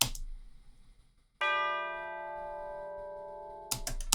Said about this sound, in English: And then you can't forget this sort of bell sound.